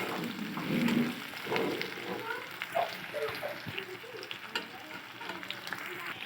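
Chopped onion sizzles in a pan of oil, a continuous close frying crackle with occasional soft stirring clatter, steady in loudness throughout.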